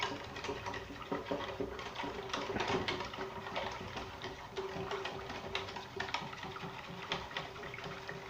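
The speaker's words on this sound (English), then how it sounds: "Get some more milk. We'll probably even add more milk. Just keep whisking it." Milk being whisked in a pan for a mac and cheese sauce: a steady, fast ticking patter of wire against metal that runs continuously and close, at an even moderate level.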